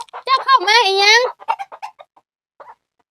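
A startled chicken giving a loud drawn-out squawk followed by a string of short, scattered clucks that fade into quiet, close to the listener.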